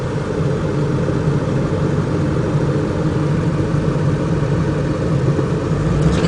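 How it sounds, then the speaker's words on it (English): Steady car engine and road rumble from inside a vehicle moving through busy traffic, a constant low drone with no break and no talking. "As you can see, there's a lot of traffic today."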